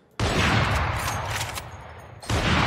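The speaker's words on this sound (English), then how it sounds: "This is the high power sniper rifle right here." A high-power sniper rifle in Valorant fires once, a loud, sharp crack with a long blasting tail. A second shot begins just as it ends, and no one speaks.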